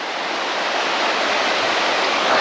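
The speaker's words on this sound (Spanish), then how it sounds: "el arroyo mayor lleva agua" Rushing water of a swollen stream on a hiking trail, a constant broadband roar, loud and close, steady for the whole stretch with no talking.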